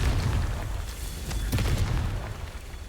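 A Confringo blasting spell explodes in Hogwarts Legacy with a dense, rumbling boom that fills the whole moment, loud and close, with a brief crackling burst partway through and no speech.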